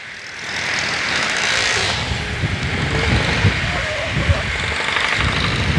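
A Yamaha Fazzio scooter is ridden, its engine holding a steady close hum with a faint vibrating buzz and passing wind noise, and occasional small bumps in level.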